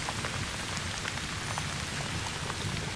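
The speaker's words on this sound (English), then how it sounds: "This rain," Steady rain falls in the video game False Hero, a soft, even hiss of drops spattering on surfaces, continuous and close with no other sounds.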